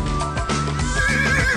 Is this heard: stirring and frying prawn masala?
no